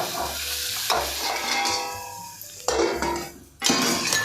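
Chana dal is added to a hot pan and stirred while frying for a monsoon taklyachi bhaji, with a close sizzle, spoon scrapes and clinks against the pan, and a brief quieter stretch before the noise returns.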